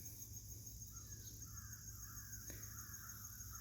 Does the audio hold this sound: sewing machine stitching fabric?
no